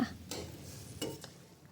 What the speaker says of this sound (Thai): แล้วก็คนคลุกเคล้าให้ผักสลด